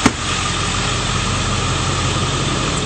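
A 2001 Ford F-350 Super Duty with the 7.3L diesel engine idles smoothly and steadily up close, a continuous loud clatter and rumble with no talking.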